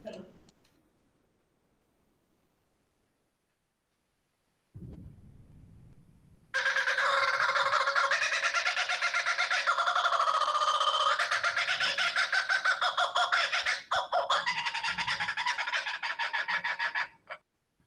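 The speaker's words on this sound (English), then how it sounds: "The laughing kookaburra." A laughing kookaburra call plays from a recording, a loud, continuous cackling chorus that starts after a few seconds of near silence and a brief thump, then cuts off abruptly near the end.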